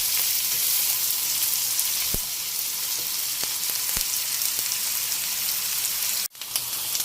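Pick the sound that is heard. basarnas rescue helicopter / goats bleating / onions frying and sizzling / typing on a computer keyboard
onions frying and sizzling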